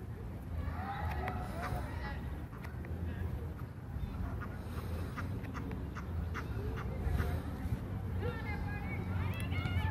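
Geese and ducks call in scattered honks and quacks at moderate distance over a low outdoor rumble in a park, with faint people talking in the background.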